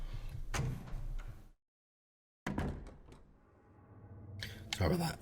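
A heavy door in Resident Evil HD opens with a creaking, rumbling sweep, then a stretch of silence, a second clunking door sequence with mechanical clicks, and a louder burst at the end.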